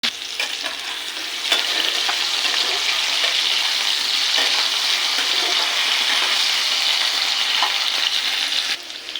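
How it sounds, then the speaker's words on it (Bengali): Potatoes fry in hot oil for a shoya curry, a loud, steady crackling sizzle with occasional stirring scrapes, continuous and close, with no talking. "আলুটাকে লাল লাল করে ভেজে নেব।"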